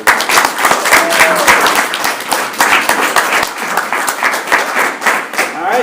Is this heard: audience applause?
yes